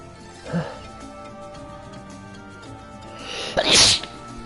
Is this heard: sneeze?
yes